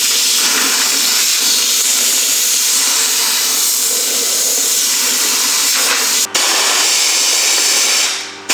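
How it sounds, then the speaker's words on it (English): Compressed air blows steadily through the inside of a 1957 Porsche 356 chassis leg during restoration, a loud continuous hiss with a short break near the end before it cuts off. "Now I've blown out all of the dirt and dust from the inside."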